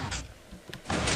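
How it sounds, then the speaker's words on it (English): A two-piston sliding door in Minecraft opens with a quick pair of whooshing mechanical bursts, the second louder and longer, heard near and alone. "Simple sliding door."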